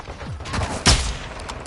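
A short burst of gunfire in Modern Warfare 2, with a few scattered shots leading to one loud, close crack, set against background battle noise.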